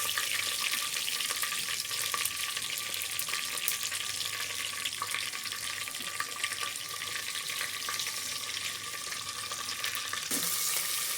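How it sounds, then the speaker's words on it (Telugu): Whole spices such as peppercorns, cinnamon and caraway sizzle in hot oil for chicken fry piece biryani, a loud, steady, close frying hiss with faint clinks and no talking. "మిరియాలు, దాల్చిన చెక్క, స్పైసెస్ అన్నీ యాడ్ చేసుకోవాలి. షాజీరా కూడా వేసుకోవాలి."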